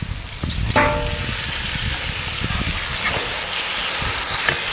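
Country chicken meat sizzles and fries loudly in a pan of cooked-down spiced masala at a home picnic cookout, a steady close hiss with occasional stirring scrapes and no talking.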